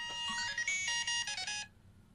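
Phone ringtone from an incoming spam call, a bright electronic melody of rapid notes lasting under two seconds before cutting off, faint and alone.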